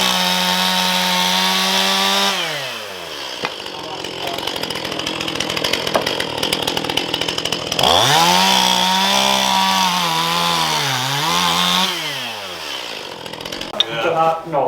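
A chainsaw roars close by at a wild camping spot near Carreg Cennen Castle, its engine pitch dropping and rising as it bites into wood, running loudly and continuously throughout.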